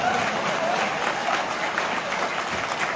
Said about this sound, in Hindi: आप मेरे लिए भी ताली बजा